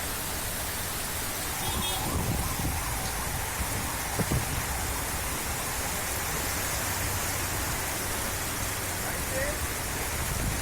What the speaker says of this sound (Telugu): హైదరాబాద్ లో కుండపోత కురిసింది